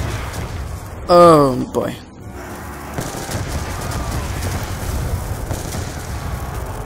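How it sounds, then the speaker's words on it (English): Gunfire rattles in a dense, continuous wash while zombies are shot in the video game Black Ops 2. Someone briefly speaks over it. "I need to shoot them real quick."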